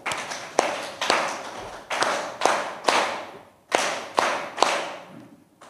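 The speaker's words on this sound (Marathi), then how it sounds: "सरांसाठी 3दा टाळ्या वाजवा" Audience at a Dhamma study talk claps in unison, in three sets of sharp synchronized claps. Each set is a rhythmic burst of loud, close claps, with short pauses between the sets.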